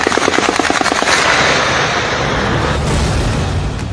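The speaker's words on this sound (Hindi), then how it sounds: "मुजफ्फराबाद में विद्रोहियों पर ओपन फायर।" Open gunfire erupts at protesters in the Neelum Bridge area of Muzaffarabad, loud rapid bursts of automatic shots that run into a heavy roaring blast and echo, dense and indiscriminate.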